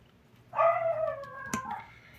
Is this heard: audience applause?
no